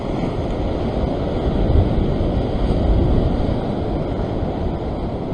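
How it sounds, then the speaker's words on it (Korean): Large swell waves breaking against rocks at a sea fishing spot, a steady loud roar of surf with broad rumbling wash that swells slightly midway, with wind buffeting the microphone and no voices. "지금도 이제 큰 파도잖아"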